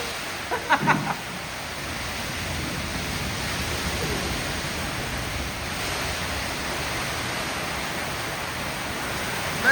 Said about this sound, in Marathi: जबरदस्त पाऊस